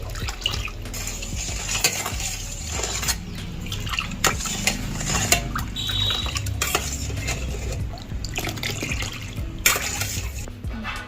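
A spoon stirs sugar into rose milk to dissolve it, clinking against the vessel close by in repeated metallic taps over a constant swishing of liquid.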